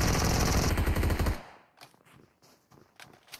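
Rapid automatic gunfire from PUBG Mobile rattles loudly for just over a second, then cuts off, leaving scattered quieter clicks and faint distant shots.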